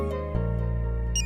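A phone ringtone plays a steady, electronic melody, with a brief higher beeping near the end.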